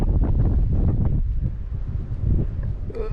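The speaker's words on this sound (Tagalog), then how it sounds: "ayan medyo humahangin na" Outdoor wind buffets the microphone in loud, rough, continuous gusts with low rumbling surges and some rustle, fading slightly midway before rising again, with no speech.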